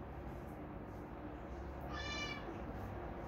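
A domestic cat meows once, clearly and fairly close, against a steady background hiss in an indoor room during a shaving session.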